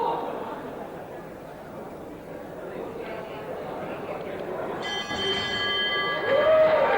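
A ringside bell at a boxing match at Shannons Gym rings out near the end, a bright metallic tone that rises over the crowd murmur and ongoing commentary.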